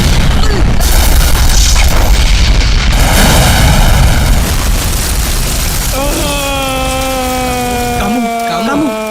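A father's car blows up in a comedy sketch: a loud, sustained roaring blast fills the first several seconds, then wavering vocal tones carry over the fading tail.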